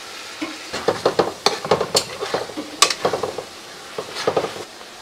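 Soaked chili powder hitting a hot pot of mutton: a steady sizzle runs under a string of close spoon scrapes and stirring clatters coming in quick bursts, with no talk.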